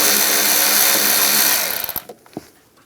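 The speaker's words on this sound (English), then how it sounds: "We're going to loosen up this worm clamp right here using an 8mm socket." An 8mm socket on a power tool loosens a worm clamp in the engine bay of a 2015-2020 GMC Yukon XL, giving a loud, steady whirring burst for about two seconds that stops abruptly, followed by a few faint clicks.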